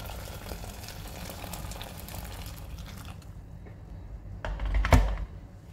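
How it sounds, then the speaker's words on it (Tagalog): Water heating in a pot with chicken pieces for molokhia (saluyot) soup, a steady bubbling hiss and sizzle filling the first few seconds, fading quieter, then a brief louder clatter near the end. "Habang pinapakuloan natin"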